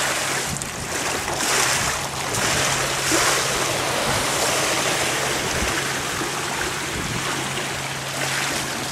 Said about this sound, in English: that time I just pushed off the wall, didn't really go underwater, stayed above the water